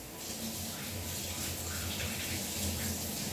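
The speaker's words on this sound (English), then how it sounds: "I'm going to wash my hands." Running tap water pours steadily over washing hands in a kitchen, a close continuous rushing splash with no pauses.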